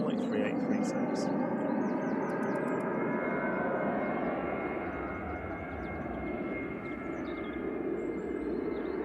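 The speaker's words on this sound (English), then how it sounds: "first departure. Ryanair operated by Malta Air to Mahon." A Malta Air-operated Ryanair Boeing 737-800 departs Manchester Airport, its dense, powerful engine roar filling the scene throughout and easing slightly midway, while brief high chirps sound early on.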